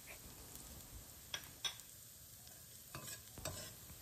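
Chopped garlic sautéing in oil for a chicken pasta, heard as a quiet, low sizzle broken by a few sharp utensil scrapes and clicks from stirring.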